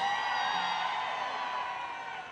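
A concert crowd in Monterrey cheers and shouts loudly, a dense wash of whoops and yells that holds steady and then fades slightly.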